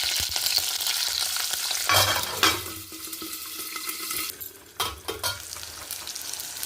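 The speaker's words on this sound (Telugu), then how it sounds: "ఇప్పుడు నూనె కాగిపోయిన తర్వాత పచ్చిమిరపకాయ ముక్కలన్నీ యాడ్ చేసుకోండి" Green chilli pieces fry in hot oil in a small kadai for bottle gourd chutney, giving a steady close sizzle broken by clinks and scrapes of stirring.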